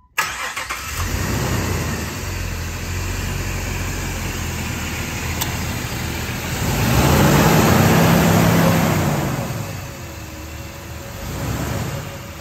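A 2004 Jeep Wrangler TJ engine cranks and catches, then settles into a steady, close idle with a brief rev partway through, running alone without talk.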